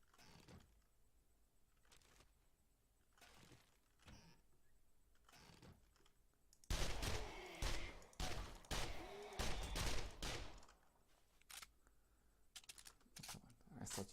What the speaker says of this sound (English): And it makes it very satisfying to use the machine gun.